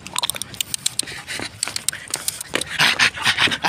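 A pet dog pants rapidly and steadily close by, with scuffling and patter of movement mixed in, growing louder toward the end; no speech.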